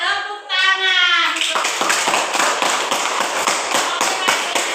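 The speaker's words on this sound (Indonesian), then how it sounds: "Tepuk tangan." A classroom of children clapping their hands together in unison at a teacher's call, a steady rhythmic run of loud, sharp claps following a brief spoken phrase.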